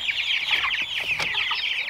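A flock of meat chickens clucks continuously at close range, with overlapping high chirps and cackles forming a busy, steady chatter and no speech.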